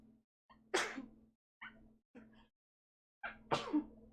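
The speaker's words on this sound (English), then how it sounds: "That vent turned on and I knew I was going to sneeze." Two sharp sneezes, triggered by a vent turning on, the first after a small intake of breath and the second near the end, each a loud burst with quiet gaps and faint breaths between.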